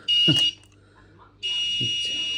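A spirit pod paranormal detector's high-pitched electronic alarm beeps twice, a short burst followed by a longer steady tone, loud and close.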